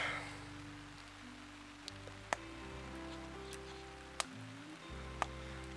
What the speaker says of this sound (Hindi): आवाज़ सुन पाए होंगे जैसे आप बारिश की, टेंट के ऊपर